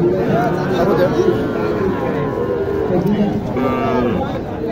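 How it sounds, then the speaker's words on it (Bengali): Cattle, including Sahiwal bulls, low repeatedly amid a noisy crowd at Mataji cattle market in Naogaon, Bangladesh, deep moos rising over steady background chatter. "গরু এখন আসছে।"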